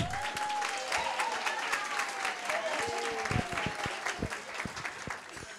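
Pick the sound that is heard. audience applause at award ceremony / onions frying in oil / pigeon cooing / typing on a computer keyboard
audience applause at award ceremony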